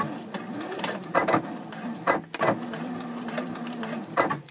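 A sewing machine stitches across a fabric basket, its motor whirring in steady runs broken by short pauses and bursts as it reverses to backstitch, close and alone.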